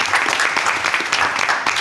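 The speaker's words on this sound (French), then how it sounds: "je vous demande, s'il vous plaît, un tonnerre d'applaudissements pour mademoiselle Céline Dirani." A studio audience at a French game show bursts into dense, steady applause for a contestant being welcomed on stage, loud and continuous throughout with no voices over it.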